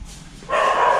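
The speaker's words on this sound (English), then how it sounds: "with the dog barking in the background." A dog barks in the background outside a rental house in a quiet neighborhood in Dumaguete, the Philippines, a single sustained bark rising out of faint ambient noise after a brief lull.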